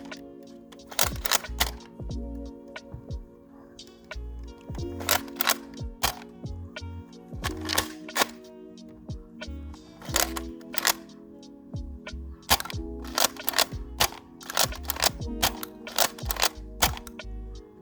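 Nerf Elite 2.0 Flipshot Flip 16 blaster firing foam darts in a rapid series of sharp, loud cracks and clicks, shots coming in irregular bursts with brief pauses between them.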